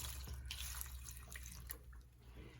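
Water poured into a bowl holding flowers for eco printing, a steady close splashing trickle running throughout.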